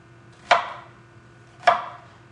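A knife chopping a red onion on a cutting board, two crisp separate thuds about a second apart, close and clear in a quiet room with no talk.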